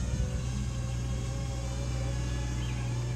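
Trucks pass nearby on a road, giving a continuous loud low engine rumble and drone that holds steady throughout, with no voices.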